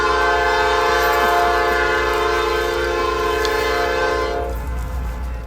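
A loud horn blares with a sustained chord while a coal train rumbles slowly past nearby in Asheville, fading slightly toward the end.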